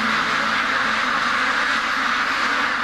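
Duck quacks in a noisy farm setting, repeated calls blending into steady broadband background noise.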